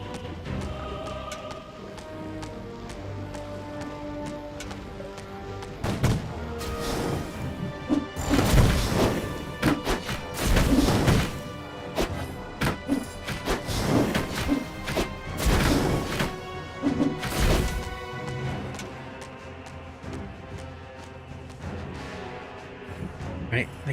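Cannon fire in the Dungeons 3 video game comes as a cluster of heavy crashing booms and thuds amid busy battle noise and music, with someone talking over it.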